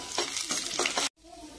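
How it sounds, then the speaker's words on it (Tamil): Urad dal and chana dal roast and stir in hot oil in a pan for beetroot chutney, giving a steady close sizzle with rhythmic scraping strokes that break off abruptly near the end. "எண்ணெய் காஞ்சிருச்சு, நம்ம எடுத்து வச்சிருக்கிற உளுத்தம்பருப்பு கடலைப்பருப்பையும் அதில் போட்டுக்கலாம். போட்டுட்டு வறுத்துக்கலாங்க."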